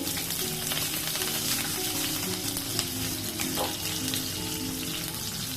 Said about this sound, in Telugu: ఇందులో కొంచెం ఆవాలు జీలకర్ర వేస్తున్నా, ఆనియన్స్, పచ్చిమిర్చి,